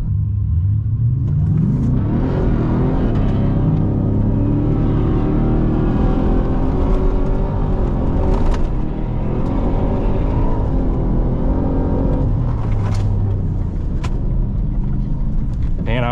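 A 2024 Ford F-150 Raptor R roars through the gears on sand dunes in a drag race, its engine rising and dropping in pitch with each shift, loud and continuous, with a voice talking over it.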